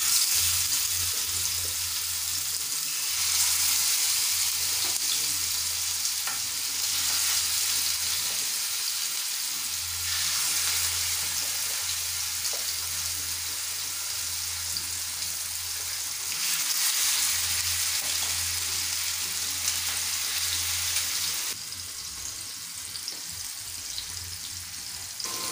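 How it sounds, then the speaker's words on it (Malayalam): Fish sizzles and spits steadily in hot coconut oil in a pan, a loud, continuous frying hiss that swells and eases in waves over a low hum, with no voices. "അപ്പോൾ ഇതാ വെളിച്ചെണ്ണ നല്ലതുപോലെ ചൂടായി വന്നിട്ടുണ്ട്. ഇനി നമുക്ക് മീൻ അതിലേക്ക് ഇട്ട് കൊടുക്കാം."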